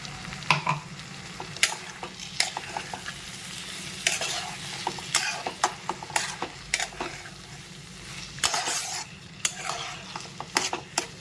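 Ground spice paste fries with ridge gourd in a pan, a continuous sizzle under rapid, irregular scraping and clinking of a spoon stirring against metal, close and busy, with no voices.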